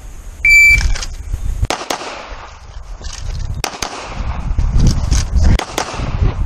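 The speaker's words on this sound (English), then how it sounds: "So just 2 shots here, move here, and 2 shots there." Sharp gunshots at an outdoor shooting training session ring out in a few quick pairs spaced apart, loud and close, with low rumbling handling noise and a brief electronic beep tone near the start.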